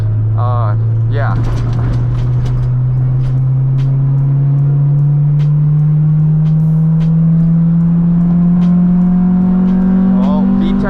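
An Acura Integra engine drones loud and close, its pitch climbing slowly and steadily under acceleration, while voices talk in the cabin.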